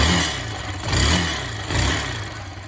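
Engine of a 2020 Brozz Recon motorcycle with valves in need of adjustment, rising and falling in two revs over a steady running note, with the valve ticking not clearly separable.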